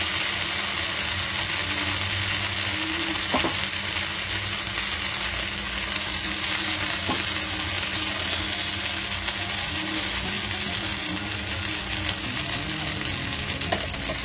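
Rava dosa batter fries in oil on a hot pan with a steady, dense sizzle that holds evenly throughout, close and loud, broken only by a few faint scrapes and no talk.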